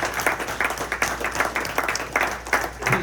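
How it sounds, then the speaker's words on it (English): Scattered clapping from a committee meeting audience honoring a state senator, a modest group applauding in uneven bursts with some individual claps standing out and murmuring underneath. "Let's give Senator a round of applause."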